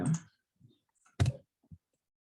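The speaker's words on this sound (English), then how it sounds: "as you start typing their name, their login I'll add in" Sparse computer keyboard clicks, a few isolated keystrokes spaced irregularly over a couple of seconds in a quiet room.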